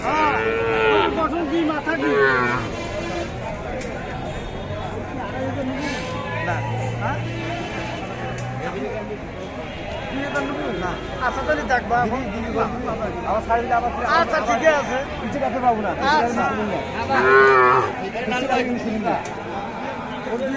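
Young bull calves moo repeatedly at a busy cattle market, their calls rising over a steady hubbub of chatter and trading voices throughout.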